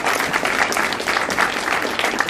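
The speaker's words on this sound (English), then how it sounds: "Can you have a round of applause for that" Wedding guests applauding at a reception after a flower girl walks down the aisle, a dense, steady round of clapping from a nearby crowd that holds strong for the whole stretch with no talking over it.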